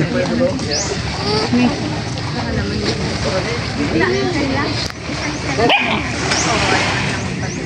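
A dog barks and whimpers amid people talking and busy background noise, the yips and whines mixed under the voices.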